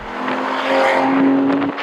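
An Aston Martin Rapide S with a 6-litre V12 revs hard through the gears toward 6,500 RPM, a loud, close engine note that rises steadily and stays strong throughout with no one speaking.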